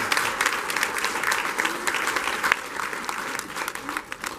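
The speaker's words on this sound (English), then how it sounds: "Please, graduates, give them a round of applause." A crowd claps steadily for graduates and families at a graduation ceremony. The dense, continuous applause is fairly loud throughout and thins slightly toward the end.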